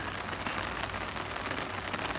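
Rain falls steadily outdoors with a dense, even hiss of drops on surfaces, constant throughout and with no talk.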